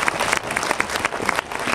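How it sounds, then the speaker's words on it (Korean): A movie-theater audience at a Q&A screening of a Korean film in Seoul claps together in dense, steady applause that holds for the whole short stretch, with a few louder individual claps popping out. "박수 한번 부탁드릴게요"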